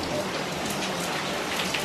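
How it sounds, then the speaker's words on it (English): Heavy rain pours down steadily on a sunny day, a dense, continuous hiss of drops striking surfaces close by, with no voices over it. "It's sunny, but raining. Pretty heavy, right?"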